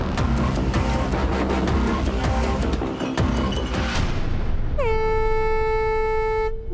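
A loud, steady din of traffic noise gives way to a long, piercing air horn blast that holds for the final seconds.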